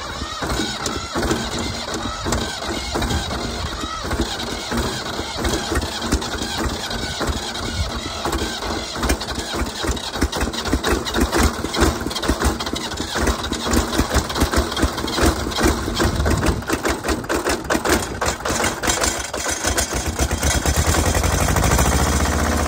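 A Yanmar engine on a John Deere tractor runs steadily, its mechanical clatter and hum nearby and constant, growing slightly louder toward the end, with no speech.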